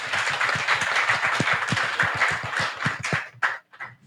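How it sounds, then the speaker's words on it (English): A hall audience at a conference session on biodiversity finance applauds its speakers and panelists, a steady, dense patter of many hands that thins and breaks into scattered last claps near the end. "give a round of applause to our speakers and the panelists"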